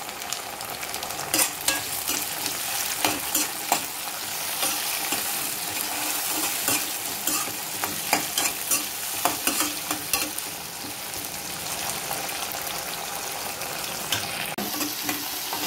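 Tomatoes sizzle steadily in hot oil for a fish curry, with repeated sharp scrapes and clinks of a spoon stirring the pan throughout, close and continuous.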